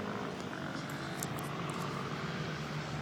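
A steady, loud engine drone with a broad, rushing hum, continuous throughout, as racing motorcycles roar past at close range at the Circuit du Val de Vienne racetrack.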